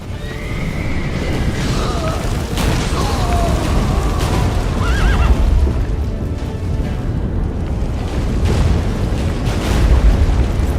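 A horse whinnies a few times over a loud rumbling The Witcher 3: Wild Hunt game soundscape with booms and a low constant roar.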